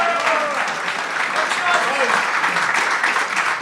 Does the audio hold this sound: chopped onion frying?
no